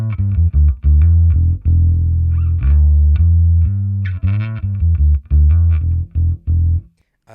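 Bass guitar played through an amp simulator on a three-pedal bass pedalboard, a series of round, slightly gritty sustained notes with chorus-like shimmer, close and loud with no talking, ending in a brief stop.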